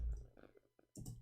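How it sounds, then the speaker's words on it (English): Typing on a keyboard gives a brief, close burst of a few quick clicks near the end, after a low rumble at the start. "I will type it in the screen."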